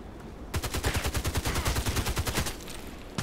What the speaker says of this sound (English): A bit more shooting.